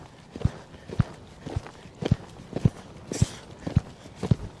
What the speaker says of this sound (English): Now we're going to go into our warm-up. Just let him canter on this lead.